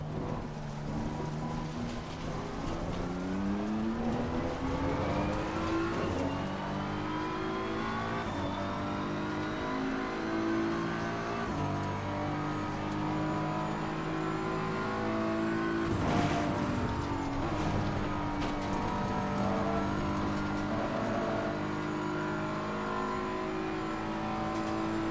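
Race cars in Gran Turismo 7 during an online lobby race roar steadily throughout, engines rising and falling in pitch through gear changes and revving, several cars audible close together with no talking.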